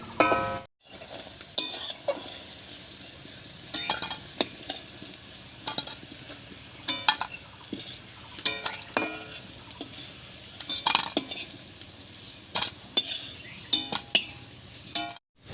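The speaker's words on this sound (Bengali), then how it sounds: "সব ধোকাগুলো হালকা করে ভেজে নিয়েছি এবারে নামিয়ে নিচ্ছি" Dhoka, lentil cakes made with raw papaya and masoor dal, fry lightly in a wok, with a soft sizzle under frequent metal scraping and clinking of a spatula as they are stirred and lifted out.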